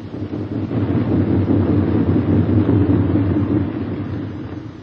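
A bomber aircraft comes in to land with its left inboard engine dead, giving off a steady low droning rumble with wind noise that swells slightly and then eases, with no voices.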